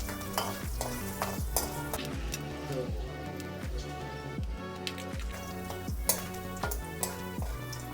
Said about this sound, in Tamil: ஒரு வெங்காயம், 2 பச்சை மிளகா, ஒரு 4 பல்லு பூண்டு கொஞ்சம் வதக்கிக்கலாம்